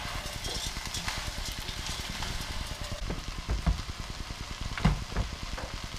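Beans being stirred into a pot of ham and bean soup on the stove, a steady low sizzle and bubbling with a few louder scraping knocks of the spoon near the end.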